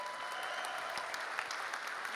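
An audience at a hackathon awards ceremony applauding a winning team as it is announced, a dense, even wash of clapping from a large crowd that holds steady throughout.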